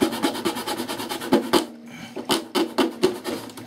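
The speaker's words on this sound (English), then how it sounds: "we'll take our sanding block and round those corners off" Steady back-and-forth rasping of a sanding block on wood, close up, rounding off corners in a regular brisk rhythm of short strokes with a brief pause midway.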